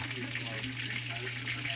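A little water added to a hot frying pan of browning food, producing a loud continuous hiss and crackle that fills the whole moment, with a low steady hum beneath.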